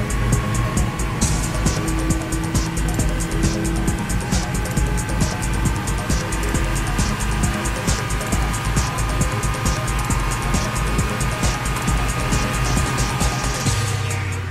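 A 520 horsepower Porsche drives fast on the German autobahn, a loud, steady engine drone with strong wind and road roar sustained throughout, recorded from inside or close to the car.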